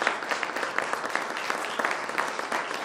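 Steady applause from an audience after a presentation at a discussion on AI in Kenya, a sustained patter of many hands at moderate level, continuous and without talk over it.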